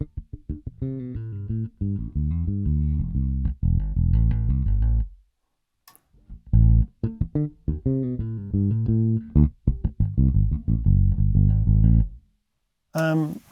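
A bass guitar played through an Origin Effects BassRig '64 pedal on its black face amp setting: clear, sustained melodic note phrases in two passages, separated by a brief silence, with no talking.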